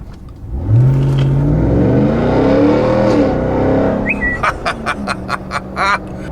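A RAM TRX pickup fitted with a Corsa exhaust revs loudly, a deep rising engine roar swelling and holding before dropping off, followed by a series of sharp, rhythmic crackles near the end.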